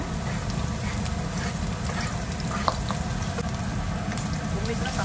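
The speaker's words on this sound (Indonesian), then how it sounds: "Tumiskan bawang putih dan bawang merahnya." Garlic and shallots sizzle in hot oil in a pan for a lamb curry, a loud, continuous frying hiss with occasional stirring clinks, close up and without talk.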